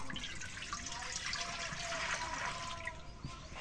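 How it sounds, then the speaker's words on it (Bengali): Water is poured into a wok of black gram lentils on a stove, making a steady, continuous rushing stream that stays fairly even for the whole stretch. "এখন পানি দিয়ে দিই কালাইয়ের,"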